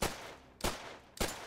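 Gunfire in the video game Call of Duty: three loud, sharp gunshots evenly spaced about half a second apart, each ending in a short fading tail, with no voices.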